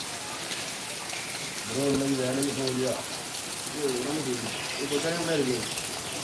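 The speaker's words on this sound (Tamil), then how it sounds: "பாருங்க ப்ரோ இன்னும் மழை நிற்கலை" Steady rain falls in a continuous hiss, with a voice talking intermittently over it.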